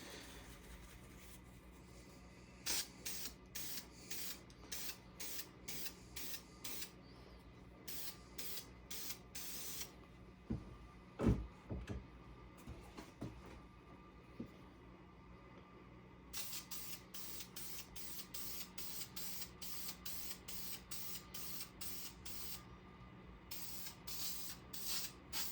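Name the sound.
spraying lacquer onto a pot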